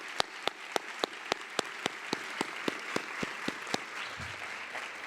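An audience at a teacher pinning ceremony applauds, a steady wash of clapping marked by evenly spaced sharp claps at a brisk, regular beat.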